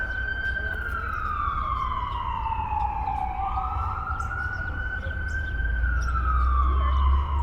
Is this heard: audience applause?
no